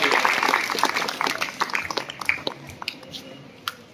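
Audience applause at a school ceremony for an English-medium school and tuition classes, brisk clapping that is strong at first and thins into scattered claps before fading.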